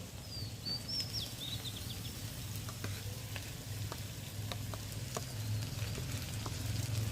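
Onions fry with ground spice paste for a village-style country chicken curry cooked over a wood-fired stove. The sizzle is loud and continuous, with scraping stirs and a faint bird chirping in the background.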